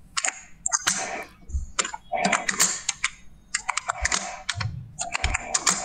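Search query typed on a computer keyboard, rapid bursts of crisp clicking keystrokes in uneven clusters with short pauses, close and fairly quiet, with brief low thumps between.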